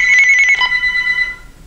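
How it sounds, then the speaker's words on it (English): A telephone rings loudly and close by with a bright, steady electronic tone that pulses briefly and then sustains, with nothing else heard. "and there goes my phone"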